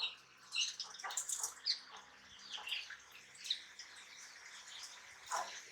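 A pair of strawberry finches in a home bird setup, giving soft, high, scattered chirps and tweets at a low level, with faint background noise and no talking.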